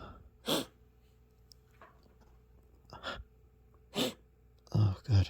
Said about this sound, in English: I can't stop all this sneezing.